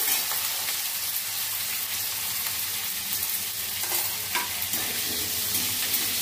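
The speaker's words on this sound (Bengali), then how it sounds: "এই আলুটাকে এখন আমি একটু ভেজে নেব।" Cut potato pieces sizzle and crackle steadily in hot oil, with a few stirring scrapes and clinks; no one speaks.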